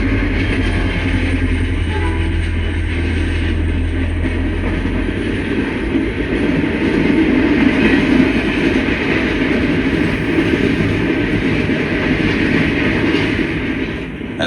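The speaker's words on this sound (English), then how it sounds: "an NS train heads eastbound." An eastbound Norfolk Southern train rolls past CA Junction at the end of paired trackage, a steady loud rumble of cars and wheels holding throughout with a low engine drone early on.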